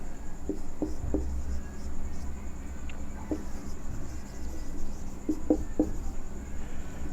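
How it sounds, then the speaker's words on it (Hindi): Marker or chalk writing a sentence on a classroom board, a few short scratchy strokes in small irregular clusters, close but fairly quiet over a steady background hum. "लेकिन दूसरा सेंटेंस हम लिख रहे हैं"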